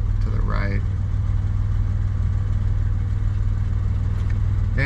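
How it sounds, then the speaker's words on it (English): A fire truck working up a road during a wildfire at night, a loud continuous low engine drone near the listener, with a brief higher whine early on and steady broadband noise throughout. "There's a fire truck working up the road there to the right."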